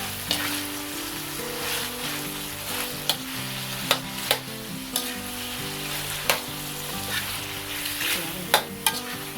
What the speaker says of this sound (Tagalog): Tapos hahaluin lang natin.